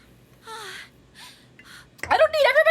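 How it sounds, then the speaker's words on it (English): Video game characters in 999: Nonary Games panting and gasping in short, breathy bursts, faint at first and then louder and more strained toward the end. "I don't need everybody panting."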